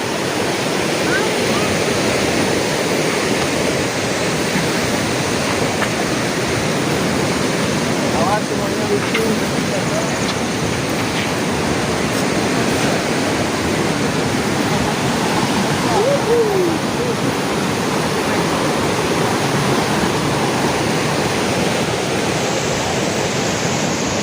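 River water at a river tubing spot in Cipeundeuy Endah, Majalengka, rushes in a constant loud broadband roar that stays steady throughout, with faint voices talking over it.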